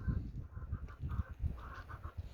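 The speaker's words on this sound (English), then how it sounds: "the ducks having a mud bath and just chowing down on pumpkins" Farm ducks wallowing in a mud bath and feeding on pumpkins give a steady run of low, nasal quacks and honks, close and fairly loud, overlapping with little pause.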